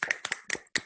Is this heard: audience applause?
yes